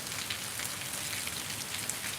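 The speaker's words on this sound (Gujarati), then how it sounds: "ભાઈ વરસાદ બહુ વધારે થાય છે" Heavy rain pours down over farm fields in a dense, steady hiss that carries evenly throughout, fairly soft overall and with no voices.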